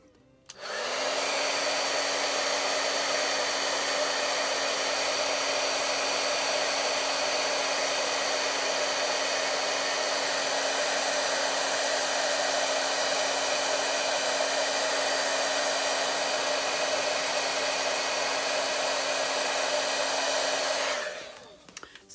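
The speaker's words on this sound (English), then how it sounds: "an embossing gun just emits heat. It doesn't actually blow air." An embossing heat gun blows a steady, loud whirring hiss with a constant hum as it melts embossing powder on a winter shaker card, running unbroken for about twenty seconds before switching off.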